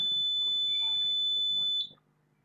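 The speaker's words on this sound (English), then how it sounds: "the red LED will turn on and buzzer start ringing" An Arduino drowsiness-detector buzzer rings as a steady, piercing high-pitched tone for nearly two seconds, then cuts off abruptly; someone talks quietly underneath.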